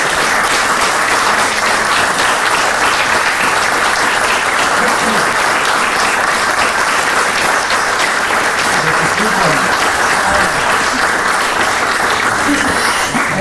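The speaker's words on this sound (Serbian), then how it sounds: "A sad jedan veliki aplauz za naše autore." A book promotion audience for a poetry collection gives loud, sustained applause that fills the room evenly throughout, with no break or fade.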